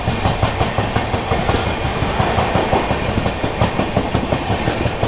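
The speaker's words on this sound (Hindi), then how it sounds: "Gorakhdham superfast express overtaking Anand Vihar terminal Puri पुरुषोत्तम एक्सप्रेस को ओवरटेक कर रहे हैं" Inside the Gorakhdham Superfast Express, wheels beat a fast, regular clickety-clack over rail joints with a loud, steady rumble as the train overtakes the Purushottam Express near Firozabad.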